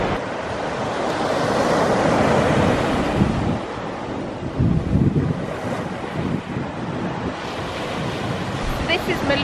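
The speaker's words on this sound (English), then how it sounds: "the waves gently break on this beach" Waves breaking on a deserted sandy beach on the Roseland Peninsula in Cornwall, opposite Falmouth, a continuous rushing wash of surf rising and falling, with gusts of wind buffeting the microphone.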